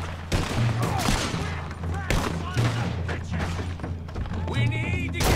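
Gunfire in the Red Dead Redemption 2 video game, a dense, loud fusillade of overlapping shots and thuds with music underneath and shouting voices over it.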